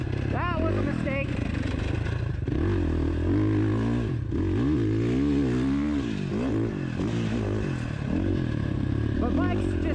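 A 2019 Husqvarna FC 450 dirt bike engine runs loud and close throughout, its pitch rising and falling as it revs, with a rider's voice speaking over parts of it.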